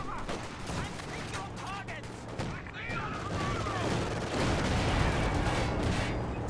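Rapid .50 cal machine gun fire in a Company of Heroes 2 battle, steady dense bursts growing louder toward the end, with someone commentating throughout.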